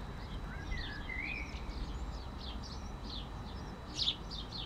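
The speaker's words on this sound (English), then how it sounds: "the birdies are still chirping." Small birds chirp and tweet outdoors in short, scattered calls, fairly faint over a low background hum, with one brighter burst of chirps near the end.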